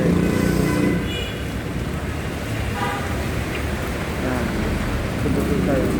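Rain falls steadily in the evening, a dense, even hiss that continues without a break from start to finish.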